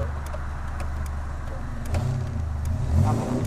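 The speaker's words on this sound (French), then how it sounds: "Ah, beaucoup d'accélérateur." A Morgan 4/4 car's engine drones steadily close by, then swells as the throttle opens into a louder rev toward the end, with no talk over it.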